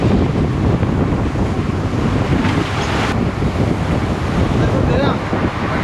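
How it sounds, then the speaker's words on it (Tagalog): Large storm waves and strong wind on the Pacific Ocean, aboard a boat, make a loud continuous roar of surf and gusting wind buffeting the microphone, steady throughout with no voices. "Nagdadapa-dapa na ho tayo dito sa sobrang laki ng alon."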